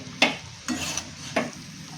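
Vegetables for a home-style medicinal bhaji are stir-fried in a pan under a soft, constant sizzle, broken by three sharp scrapes of a spoon against the metal.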